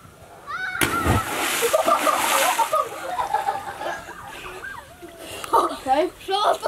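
Cold water splashes loudly at an outdoor family reunion, a burst of splatter lasting a couple of seconds. Several voices, including children, talk around it and continue afterward.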